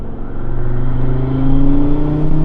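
A 400hp Volvo wagon pulling hard from 35 mph, its engine a loud close roar with a rising whine and deep rumble as boost builds, no voices.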